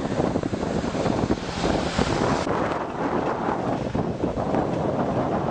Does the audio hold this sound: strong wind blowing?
yes